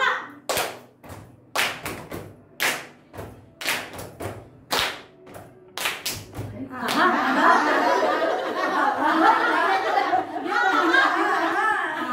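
A group plays a rhythmic clapping game, with sharp claps landing in an irregular pattern over the first few seconds, then giving way to a dense, sustained wash of crowd noise, chatter and laughter.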